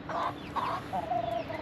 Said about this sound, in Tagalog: tsaka yung iba pang manok natin nakakapasok dito sa tambayan natin